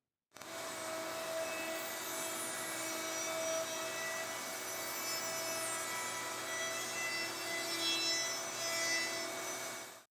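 Handheld or table router cutting a 1/4 inch round-over profile into the edge of a wooden board, a steady, loud, continuous high-pitched whine with a rough cutting rasp that runs unbroken for about ten seconds with no talking.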